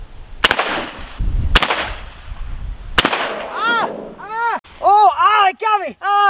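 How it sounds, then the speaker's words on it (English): Three loud, sharp shotgun blasts send spread shot at a very thin steel sign, spaced about a second apart. Excited shouting voices follow. "we're shooting that very, very thin steel"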